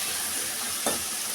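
Tomatoes go into a hot frying pan of nearly softened onions for a finger millet ball gravy, giving a brief loud sizzle burst over steady, close frying hiss.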